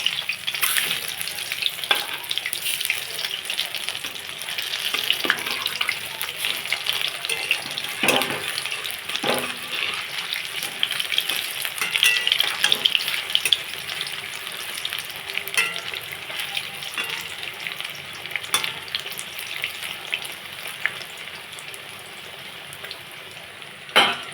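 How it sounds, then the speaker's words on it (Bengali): Small shrimp fritters fry steadily in hot oil, a dense continuous sizzle with faint crackles and occasional stirring clinks, close and fairly loud throughout with no talking. "বড়াগুলো খুব সুন্দর করে লাল লাল করে ভাজা হয়ে গেছে"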